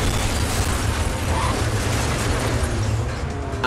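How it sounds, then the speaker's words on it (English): Car crash in a GameCube racing game, a dense, rumbling burst of crunching noise and booming impact that carries on steadily with no speech. "And I totaled my car."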